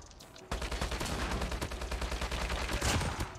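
A sentry gun in Call of Duty Mobile opens fire in a sustained rapid burst, loud and continuous with regular stuttering shots for several seconds after a brief quiet start.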